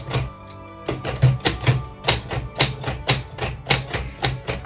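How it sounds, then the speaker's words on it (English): Keys of a typewriter strike in an uneven run of sharp, close clacks, about a dozen in under five seconds, with short pauses between bursts as someone practices typing addresses and punctuation. "how do you use a typewriter to do something like addresses"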